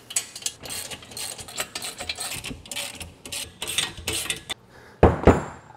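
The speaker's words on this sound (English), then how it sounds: "We can now bolt them down tight with the right wrench." A wrench tightens nuts and bolts on a steel weight bench frame, giving a run of rapid metallic ratcheting clicks and clinks, close and fairly loud, followed by a couple of heavier knocks.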